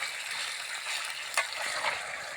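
Country chicken fries and is stirred in a pot over a wood-fired stove outdoors, a steady close sizzle with scraping stirs and a couple of sharper clatters.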